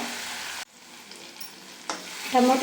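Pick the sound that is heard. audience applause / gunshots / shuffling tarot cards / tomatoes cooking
tomatoes cooking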